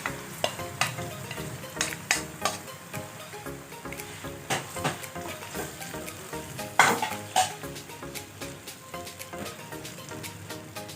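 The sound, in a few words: tomatoes added to a frying pan, sizzling and stirred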